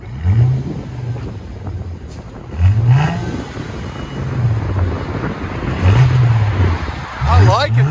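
A 2008 Mercedes C300 4MATIC with dual exhaust and a muffler delete revs repeatedly, each deep rising blip followed by a drop back to a low idle. The revs are close and loud, with wind buffeting the microphone.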